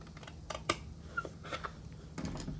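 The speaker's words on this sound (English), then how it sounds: "we're going to cut that out all the way up to the 3 1/2 inch score line" Paper for a mini album being cut with scissors up to a 3 1/2 inch score line, giving a few quiet, separate snips and clicks over faint room hum, with no talking.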